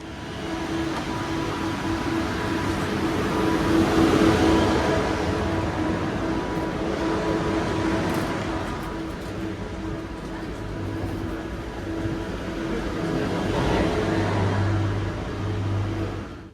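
A train runs toward KL Central in Kuala Lumpur, Malaysia, giving a steady, enveloping interior rumble with a low hum and faint rail rattles that swell and ease slightly over a long, continuous stretch.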